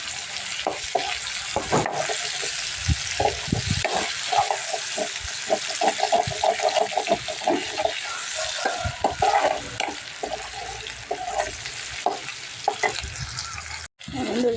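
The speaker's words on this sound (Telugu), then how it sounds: "పచ్చిమిర్చి అయితే వేసి ఫ్రై చేసుకున్నాను" Green chillies and onion pieces sizzle and crackle steadily in a hot pan while being stirred, with scraping stir strokes and a continuous close frying hiss throughout.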